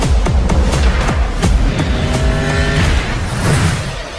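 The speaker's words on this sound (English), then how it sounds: "once the car chase is underway, it holds its own, looking indestructible and fearsome" During a film car chase in The Batman, a car engine roars and revs loudly with passing whooshes and a sustained tire squeal, dense and continuous action noise with no speech.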